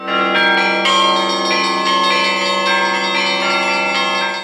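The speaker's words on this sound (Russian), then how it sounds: "а сразу по окончании литургии зазвонили колокола." Large church bells peal loudly and continuously right after a liturgy, overlapping strikes ringing out with rich, sustained resonant tones.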